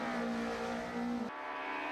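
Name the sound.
four-wheel drive rallycross car racing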